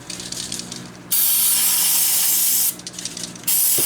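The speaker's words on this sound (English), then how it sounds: "Let's spray a little contact cleaner on them." Aerosol contact cleaner sprayed onto potentiometers during an arcade monitor repair, two loud, close hissing bursts of about one and a half seconds and one second, with quieter workbench handling sounds between them.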